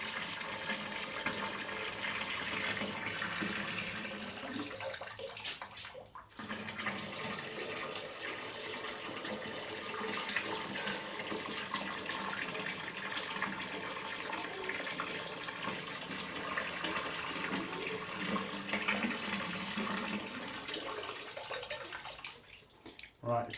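Water pours steadily into a bucket hung from a glued plate in a workshop adhesive load test, a continuous splashing gush lasting throughout with a brief dip partway and a cutoff at the end; a voice speaks faintly underneath.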